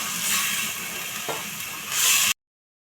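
Onion and chili frying in oil in a pan, a steady close sizzle and hiss with a brief stir scrape midway, swelling louder just before it cuts off.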